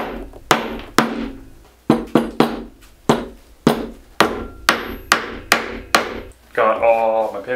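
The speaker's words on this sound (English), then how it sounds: "Make sure you're hammering into something" Steel pins hammered by hand into a homemade powsurf board to fix a traction pad, a dozen sharp, close, loud strikes in uneven rhythm, ending with a brief scraping or rustling sound.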